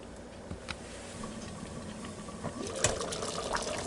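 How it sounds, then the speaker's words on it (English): Hungarian goulash simmers in a covered 10-inch fry pan, giving a soft, steady bubbling and faint ticking from the lid, quiet and continuous throughout with a few small pops. "now we're going to let that stuff come to a simmer real good"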